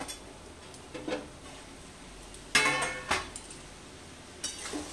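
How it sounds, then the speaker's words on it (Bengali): A spoon scraping and knocking in a pot of potato and green pea curry, several short faint clinks and scrapes at irregular intervals against a quiet background. "এরকম করে একবার করে নেড়ে দিতে হবে, না তো তলায় ধরে যাবে তখন।"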